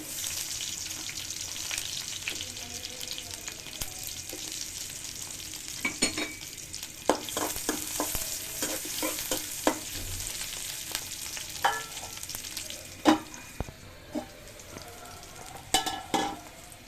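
Sliced onions sizzle steadily in hot oil in a pan for an ash gourd curry with mustard paste, with a continuous hiss broken by scattered clicks and scrapes of stirring, close and fairly loud, no voices.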